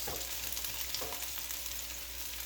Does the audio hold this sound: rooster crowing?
no